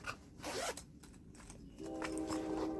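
A pink zipper on a Walmart beauty bag printed with the Walmart logo is pulled in several quick, close, raspy strokes, with a brief pause between them.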